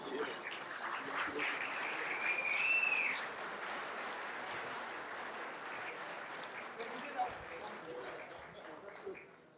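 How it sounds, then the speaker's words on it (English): Steady applause from a crowd at an Arab engineers' gala, a dense wash of clapping that holds at an even level and fades slightly toward the end. "You deserve recognition, and you deserve a big, big round of applause."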